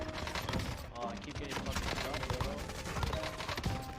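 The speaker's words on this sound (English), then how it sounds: "Another clip then surfaced where Captain Baldy displayed suspiciously accurate shooting" Video game gunfire crackles in dense rapid bursts of shots, layered over busy in-game noise, with a voice partly mixed in.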